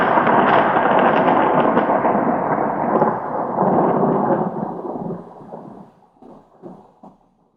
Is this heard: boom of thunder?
yes